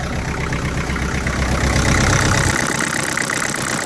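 A Kubota M5000 tractor's diesel engine revs up loud and close, holding a rough rattling roar before dropping back to a lower idle near the end.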